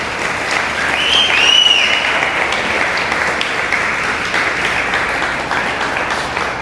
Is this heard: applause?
yes